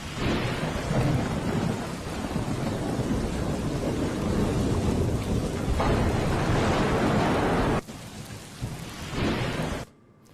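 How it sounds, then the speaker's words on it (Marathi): Heavy monsoon downpour pounds the Malshej Ghat, with deep rolling thunder rumbling beneath the dense roar of rain, loud and continuous until a sudden cut near the end. "तिकडे माळशेज घाटात देखील मुसळधार पाऊस कोसळतोय"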